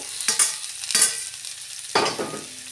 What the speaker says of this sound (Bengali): এগুলো দিয়ে একটু নেড়ে নেব।